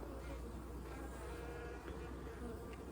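Honey bees buzz around an opened hive during an inspection of frames with brood and eggs, a soft continuous drone close by, steady and without talk.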